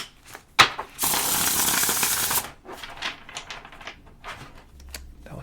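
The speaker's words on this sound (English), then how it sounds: "Hopefully I can shuffle it." Tarot cards being riffle-shuffled, a dense crackling flutter lasting about a second and a half, surrounded by sparse taps and soft handling noises of the deck.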